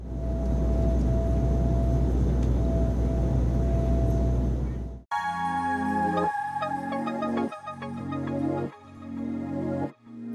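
An airplane sound effect gives a steady, rumbling engine roar for about five seconds, then cuts off abruptly into rhythmic music.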